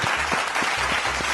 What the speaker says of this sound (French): Chers amis, applaudissons pour la vie.